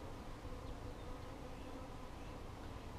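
Honeybees buzz during a hive inspection at a bee farm, a faint continuous hum with no pauses and no voices.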